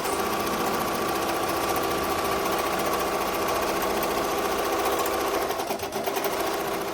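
An embroidery machine runs a tack-down stitch over Siser glitter heat-transfer vinyl appliqué, a loud, steady, rapid mechanical stitching that continues throughout with no talk.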